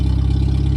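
A 1999 Jeep XJ 2.5L engine idles with its exhaust cut off, a loud, steady low rumble with a fast even pulse and no talk.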